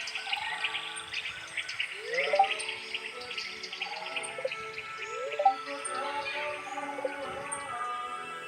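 Bright, repeated bird chirps from Stardew Valley rise over a steady watery background hiss, sounding like game ambience; a few short calls spaced a few seconds apart.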